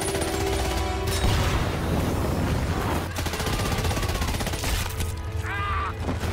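Dense battlefield gunfire from the war film Hacksaw Ridge: rapid bursts of shots and booming impacts crowd together loudly over a low rumble, with a shouted voice briefly audible near the end.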